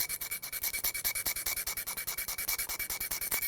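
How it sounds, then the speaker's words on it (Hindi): A blade rubbed back and forth over a rusty iron hammer head to expose bright metal, giving a steady rapid rasping scrape in even strokes, close and fairly quiet, with no talk. "थोड़ा रगड़ देते हैं ब्लेड से"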